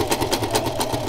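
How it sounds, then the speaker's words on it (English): A sewing machine stitching fabric, a fast rhythmic mechanical chatter of close, even pulses over a low motor hum, heard alone. "just learn how to feed the fabric into that machine there"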